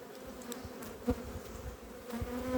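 Honey bees hum steadily over a brood frame at a small apiary during a cold spring, a continuous close drone with occasional louder passes of individual bees near the frame.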